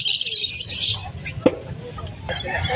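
Pet lovebirds, orange-faced Lutino birds, give sharp squawks and chirps in quick scattered bursts, fairly close, with faint talk in the background.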